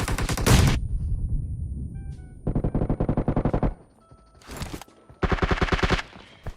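Rapid automatic gunfire rings out in PUBG Mobile, coming in several loud, close bursts of rattling shots separated by short pauses and quieter stretches.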